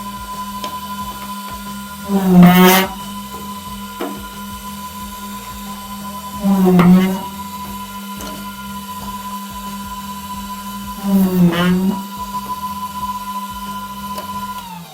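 A Shershen-4 frame-drilling machine hums steadily while three loud drilling bursts of about half a second each come at even intervals, close and without talk.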